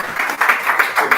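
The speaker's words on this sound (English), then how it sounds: "It's a round of applause for" Brief applause from an audience at a business summit, a short burst of clapping with rhythmic pulses, moderately loud and heard on its own.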